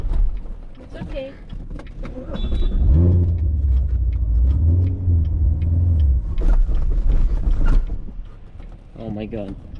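A manual Corvette stalls in busy downtown traffic and is restarted, giving mechanical clunks and then a low engine rumble that rises and falls, close inside the car, with a voice speaking over parts of it.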